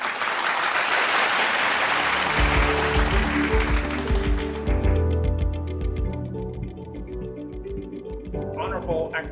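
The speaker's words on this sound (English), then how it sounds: "Let us give a round of applause to Professor Bo Ji-yu." Conference audience applauding Professor Bo Ji-yu at an Asia Pacific leadership conference, a dense burst of clapping for the first half that fades as music with a steady beat takes over and continues alone.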